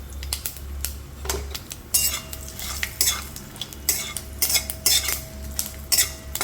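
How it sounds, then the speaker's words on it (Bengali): A tempering of bay leaves, dried chilli, mustard seeds and salt stirred in a pan over low heat, with busy metallic scraping and clinking of a spatula over a faint sizzle, close up and without speech. "হালকা করে নাড়তে হবে গ্যাস কমিয়ে, যাতে সুন্দর একটা গন্ধ আসে"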